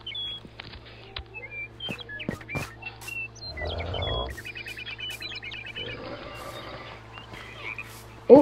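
Frog croaks from animals in a Minecraft zoo game, scattered short croaks and chirpy calls over quiet ambient game sounds, with brief rustling bursts in between.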